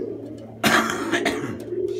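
Pigeons cooing close by in a loft, a soft throaty coo swelling from a quieter murmur and then settling, with low background hum.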